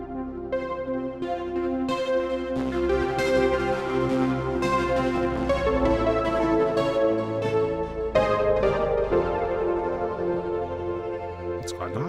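A software synthesizer preset plays sustained, shifting chords with a sweeping, whooshing flanger effect, bright and loud, ending in a falling swoosh.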